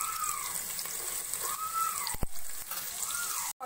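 Onions frying in oil in a pan for a snake gourd and prawn curry, a steady close sizzle and hiss running throughout, with faint clinks and a brief sharper tap near the middle.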